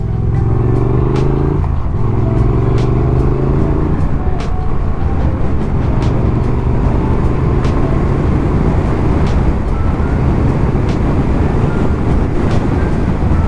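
A Triumph Speed Twin 900 motorcycle accelerates with a loud, continuous engine roar heard close up and steadily rising in pitch, with dense wind rumble throughout.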